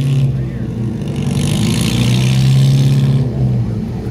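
A Ferrari 250 LM idles and revs loudly and steadily nearby at the outdoor Pebble Beach Concours, its throaty engine drone filling the scene with a brief rise in intensity mid-way.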